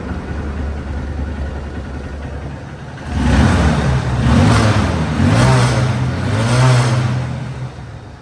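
A Honda CB Trigger 150cc motorcycle starts up and revs in repeated rising and falling bursts, loud and close, after a quiet stretch.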